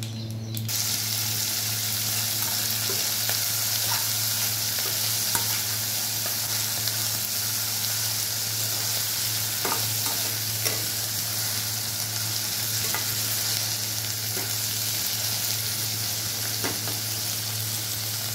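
Green chili, onion and garlic paste frying in a hot pan with curry leaves, a steady close sizzle that holds loud and even throughout with faint stirring clinks.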